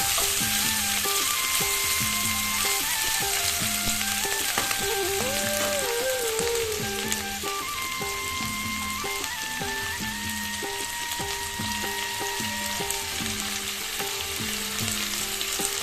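Prawns fry in oil over a low gas flame, a dense, even sizzle like steady rain running throughout, with music playing softly underneath.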